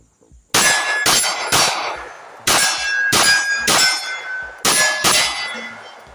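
Pistol shots from a Girsan .45 Auto firing Frenzy 230 grain rounds, seven sharp loud reports in an uneven string, some fired in quick pairs, each with a ringing decay, no talk.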